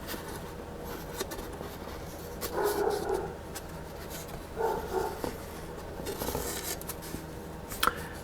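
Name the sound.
dog Tiberius barking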